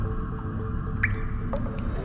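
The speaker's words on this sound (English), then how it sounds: "She heard water dripping from the art room sink." Water drips from an art room sink at a school, a few distinct drops plinking against a steady low background hum, close and moderately loud.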